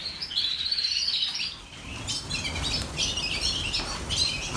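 Red factor canaries chirp and tweet in their cage, bright high twitters in bursts that come and go, fairly close yet soft, with no talking.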